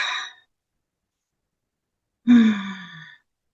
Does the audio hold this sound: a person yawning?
yes